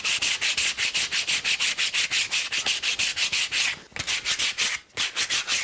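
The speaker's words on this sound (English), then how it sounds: "Very, very essential part of last making is that the final hand sanding." Hand sanding of a carved wooden shoe last: a steady, close, rhythmic rasp of quick back-and-forth strokes, about three per second, with two brief pauses and no voices.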